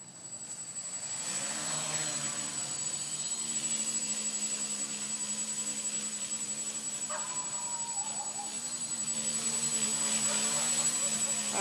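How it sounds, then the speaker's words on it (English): A tricopter drone carrying a GoPro spins up its motors and lifts off on an early flight, giving a sustained buzzing whine with shifting tones as it hovers, moderately close. "this is gonna be practically the first flight while recording it"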